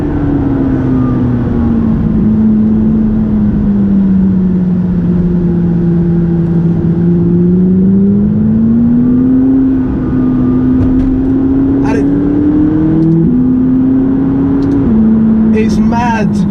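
A McLaren 570GT sports car engine pulls hard on twisty Gloucestershire country roads, a loud continuous drone rising and falling in pitch through gear changes, with someone talking over it.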